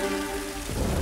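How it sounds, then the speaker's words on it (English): Rain falls on a surface in a cartoon garage scene, a brief wash of close hiss that swells over a fading tonal background. "Oh, it's raining."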